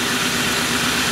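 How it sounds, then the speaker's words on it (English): A classic car's engine, just restarted at a scrapyard, idles steadily with a low, even rumble throughout, fairly loud and with no talking. "I just tried to start it again and it fired."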